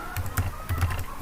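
Typing on a computer keyboard, a short run of quick close clicks and taps in uneven bursts, with no talk.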